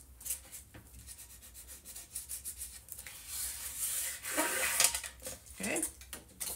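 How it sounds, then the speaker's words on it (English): A tool burnishes patterned paper flat onto a page of a Graphic 45 Love Notes mini album. Soft, faint rubbing and scraping strokes come close by in an irregular rhythm. "And then I'm going to burnish."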